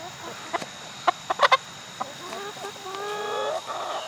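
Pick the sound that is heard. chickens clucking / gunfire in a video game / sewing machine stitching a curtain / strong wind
chickens clucking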